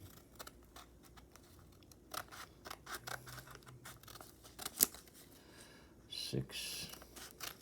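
Scissors snip through a chromatography paper strip in a school lab, giving a few crisp, brief cuts over a quiet room with faint background murmurs.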